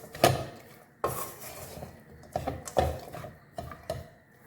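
A spoon scrapes and knocks against a bowl while ragi flour, ghee and roasted nuts are mixed for ladoos, giving several separate clinks and scrapes at close range with no voices.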